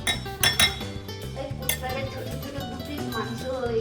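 A metal spoon clinks against a cooking pot while ground coriander and other spices are added to a dish, bright repeated taps near the start with steady kitchen sounds and a faint voice beneath.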